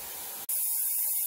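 Quest Graffiti Gun cleaner sprayed onto a homemade slime stain on fabric or carpet: one short, sharp aerosol burst that starts partway through and then settles into a brief, close hiss.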